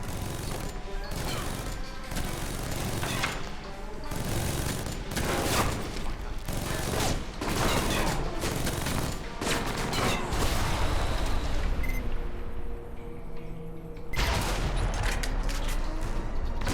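Gunfire in Alpha Protocol: rapid, dense bursts of shots nearly throughout, loud and close, with a brief lull and mechanical clatter before a final volley.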